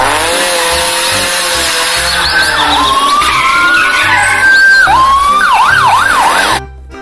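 A traffic police car siren wails loudly and close, with a steady rising tone that gives way to rapid warbling yelps over a rumbling engine, then cuts off abruptly.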